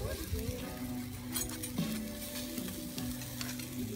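Grilled pacu fish sizzles steadily on a barbecue grill while it is cut, a close, constant frying hiss with a few faint clinks of a utensil.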